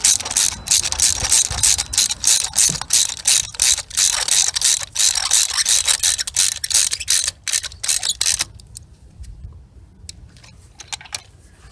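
Ratchet clicks rattle in fast, rhythmic bursts close up while spark plugs are tightened in a 2016 Chevy Cruze 1.4L engine, then stop into near silence with a few scattered clicks.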